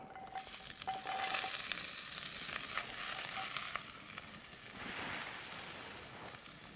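Green beans sizzle in a little olive oil in a saute pan, a continuous bright hiss and crackle with occasional stirring scrapes, moderately loud and close, steady throughout.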